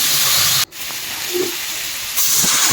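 Black cumin seeds sizzling in hot oil in a home kitchen, a steady loud hiss broken by a brief dip, then continuing bright and close.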